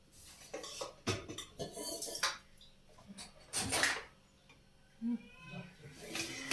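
Metal plates of a steamer stand, three in all, clink and clatter against each other as they are handled in a kitchen, with scattered light knocks and scrapes at close range and a few quiet gaps between them.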